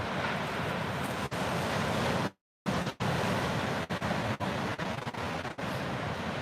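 Surf rolls in at a surfable Florida A1A beach as a continuous broad roar mixed with gusting wind buffeting the microphone. The sound cuts out briefly midway and then returns.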